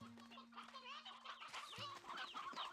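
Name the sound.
chickens clucking in the video game Slime Rancher 2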